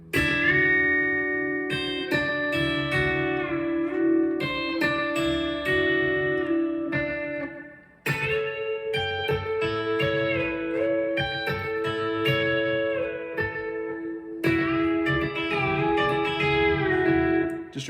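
Steady picked B-bender guitar lick, notes alternating between thumb and index finger, bright and close with bends rising and falling across two repeated phrases, no voice.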